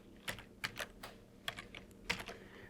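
Typing on a computer keyboard during Mac Mini developer setup, heard as quiet, close keystrokes in irregular short bursts with small pauses between them and no voices.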